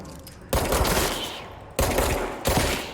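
Gunfire at cameras in the video game Control, three loud bursts of rapid shots, each starting abruptly and trailing off with echo, heard alone without talk.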